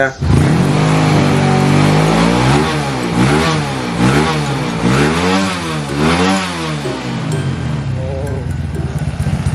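A rebuilt Honda Wave 125 motorcycle engine revs hard and repeatedly, pitch rising and falling in several loud, close throttle blips, idling rough between them.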